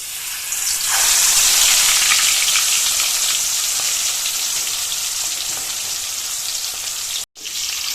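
A whole chicken hits hot oil and a loud, dense sizzle rises within a second, then continues as a steady close crackle with one brief dropout near the end; no one speaks.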